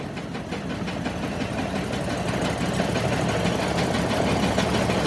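Diesel engine on a Chinese jaw crusher running at low throttle, a steady close rumble with an even knocking pulse, loud and continuous throughout with no voices.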